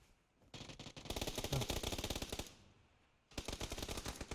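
Automatic gunfire in the battle royale game PUBG: two long bursts of rapid, evenly spaced shots, loud and close, separated by a brief quieter gap, with no talking.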